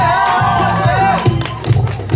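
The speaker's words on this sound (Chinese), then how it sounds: "掌声加尖叫。" A concert crowd at an outdoor student end-of-term show cheers and claps after a guitarist is introduced, with scattered shouts and screams breaking through. Amplified music and a voice run loudly over the top.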